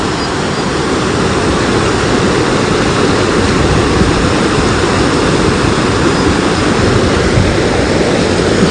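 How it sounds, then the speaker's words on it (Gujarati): A river flowing along the bank near a temple, with a steady, dense rush of water that holds constant and fairly loud throughout, with no voices. "ખાલી સાઉન્ડ ઓપડો નદીનો"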